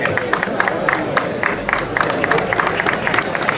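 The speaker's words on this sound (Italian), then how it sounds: "Un applauso a Salvatore" At a hill-climb event at Ponte Corace, Tiriolo, a crowd applauds Salvatore on the podium with dense, continuous clapping, sharp individual claps over a busy crowd murmur, lasting throughout at close range.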